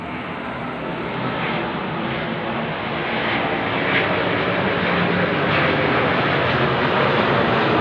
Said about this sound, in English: I couldn't even hold that up to film the plane going over